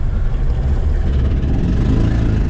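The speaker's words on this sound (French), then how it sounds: "Écoutez le bruit de tracteur qui est fait là." A Renault 4L on a rally run misfires, chugging rough on three cylinders with a loud, uneven low-pitched engine throb recorded up close, with no voices.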